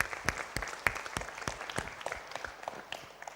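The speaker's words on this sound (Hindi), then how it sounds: "एक बार जोरदार तालियां उनके लिए।" Applause from an audience at a yoga and arts cultural event, a sparse, uneven patter of individual claps, fairly distant and moderate in level, with no talk over it.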